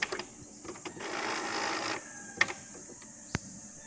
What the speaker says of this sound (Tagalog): yung printer natin guys ay kailangan ko lang i-turn off